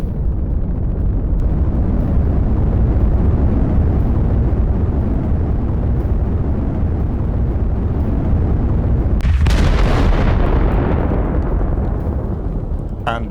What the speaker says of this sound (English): And I have to say that that rocket was pretty clever. It took out my 3 most important barracks there